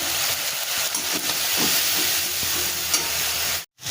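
Ground spice paste and turmeric frying with onions in a pan, a dense steady sizzle with occasional stirring scrapes, ending in a brief sudden cut to silence before the sizzle returns.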